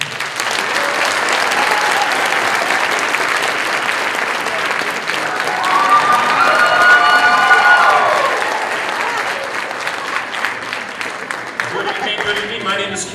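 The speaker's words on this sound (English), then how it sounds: "Ladies and gentlemen, put your hands together for Jozsef" A college crowd claps and cheers to welcome an illusionist onto the stage, loud continuous applause swelling midway with whoops and whistles, then easing off over about thirteen seconds.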